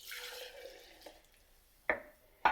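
Bourbon poured into a slow cooker for a pork glaze makes a soft splashing trickle that fades out, followed by two sharp, close clinks.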